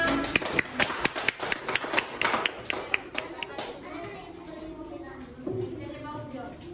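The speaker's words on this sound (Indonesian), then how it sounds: "Tepuk tangan semua" Schoolchildren in a classroom clap after a group presentation, a quick run of sharp, uneven claps that fades after a few seconds, with children's voices chattering beneath and afterward.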